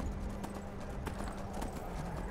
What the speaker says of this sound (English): we're gonna use the power of horse